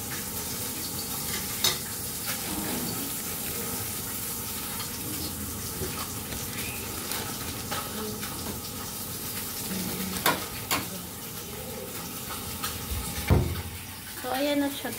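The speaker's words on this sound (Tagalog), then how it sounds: "habang piniprito natin yung ham" Ham frying in a pan while pizza bread is made at home, giving a steady broadband sizzle throughout, with a few sharp clinks and stirring knocks; a voice speaks intermittently over it.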